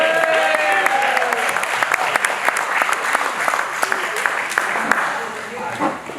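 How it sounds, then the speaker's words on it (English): Wedding reception guests applauding the best man after a toast, a lively, close round of clapping with cheers and chatter mixed in, sustained and then easing off. "Let's get a round of applause for the best man"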